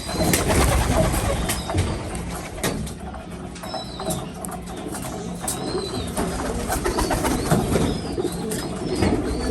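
Pigeons coo repeatedly in a loud, close loft, soft throaty calls overlapping amid rustling and faint higher bird chirps, with no talking.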